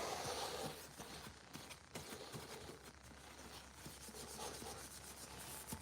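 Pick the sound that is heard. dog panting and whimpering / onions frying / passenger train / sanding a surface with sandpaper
sanding a surface with sandpaper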